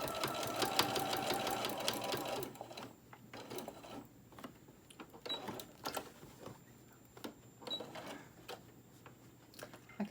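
A sewing machine stitches a small tote bag with pockets, running in steady bursts of rapid mechanical chatter with short pauses between runs, close and fairly loud, with no talking.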